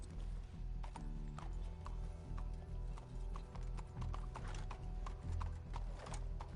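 Horse hooves clip-clopping in Red Dead Redemption 2, a steady close rhythmic trot with faint creaks of tack, no voices over it.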